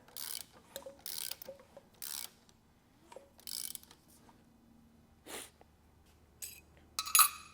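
Rocker adjuster nuts on an LS7 race engine are turned by hand with a ratcheting tool, giving a series of quick, close ratchet bursts separated by short pauses, fairly quiet overall.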